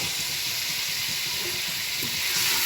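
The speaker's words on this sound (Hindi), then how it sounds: "तो जी अब हम इसमें पानी ऐड कर देते हैं।" Water pours steadily into a pressure-cooker pot of beef nihari, a continuous broad splashing rush that stays loud and even throughout with no voices.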